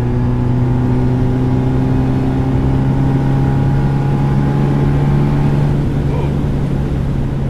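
A supercharged 1967 MGB GT accelerates hard at speed, its engine holding a loud, steady droning whine with rising tones throughout, heard from inside the car with a brief voiced exclamation.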